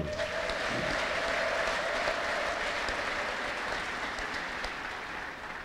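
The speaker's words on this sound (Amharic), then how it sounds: "እስቲ ደግማችሁ ለጌታ አጨብጭቡ" A church congregation claps together in sustained, dense applause that holds steady for several seconds and then slowly fades, with no one speaking over it.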